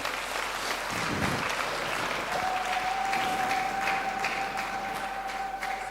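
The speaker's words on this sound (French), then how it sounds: "Applaudis très bien le Seigneur des Seigneurs." A congregation claps steadily at a deliverance church service. The applause is continuous and moderately loud, with a sustained high tone, likely feedback or an instrument, joining partway through.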